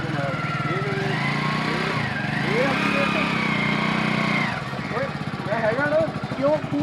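A motorcycle engine gets light throttle while someone learns to ride it, its engine note rising and holding before dropping back to a rough idle, with people talking over it throughout.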